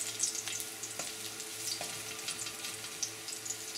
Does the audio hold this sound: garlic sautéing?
yes